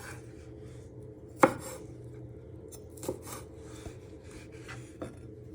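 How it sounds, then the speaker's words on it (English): A knife slices garlic into little pieces on a board, a few soft, irregular taps and scrapes with one sharper chop, close and quiet. "Bring it all back together and just give it a final slice into little pieces"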